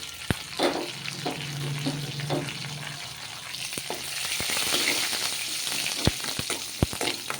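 Onions and garlic, with curry leaves and dried red chillies, sizzle and crackle in hot oil close by, with occasional sharp clicks of a spoon stirring the pan.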